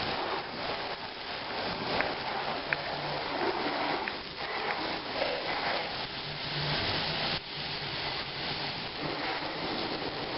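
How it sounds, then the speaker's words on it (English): Garden hose spraying water over a soapy Lexus, rinsing the suds away in a steady, continuous hiss and patter that runs unbroken throughout, close and fairly loud. "I'm going to rinse it off"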